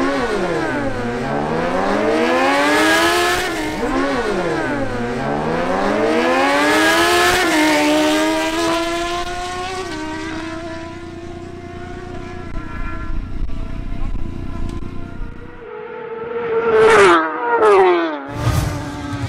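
A Suzuki GSX-R1000 motorcycle screams through a drag racing run, climbing in pitch with each gear and dropping at the shifts, then fading to a distant drone before sharp, loud bursts near the end.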